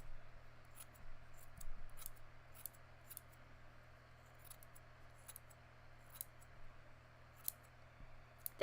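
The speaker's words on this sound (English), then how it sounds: "let's just trim this into more manageable sections" Scissors snipping through slime in a quiet room, a series of faint, crisp cuts spaced irregularly over a low steady background hum.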